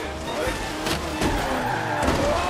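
A Dodge car in the racing game Forza Horizon 3 brakes hard and skids, a loud sustained tire screech over engine roar that continues for a couple of seconds.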